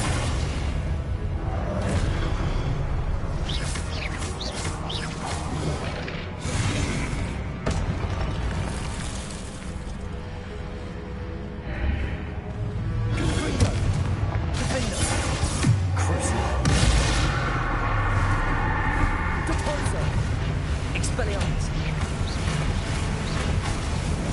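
Spell blasts and magical explosions burst out in Hogwarts Legacy gameplay, loud whooshes and booming impacts coming in repeated waves over a steady bed of game noise, with a player's voice calling out spells.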